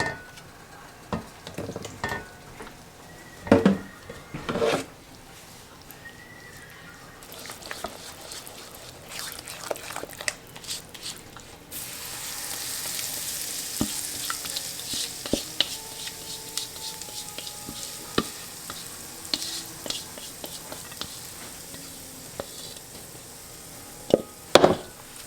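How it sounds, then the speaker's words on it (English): Batter for breading okra being mixed in a bowl by a hot pan, scattered whisking and tapping knocks at first, then a denser stretch of rapid stirring clicks and light scraping, no voices. "Pan's hot, so I'm going to mix up my batter."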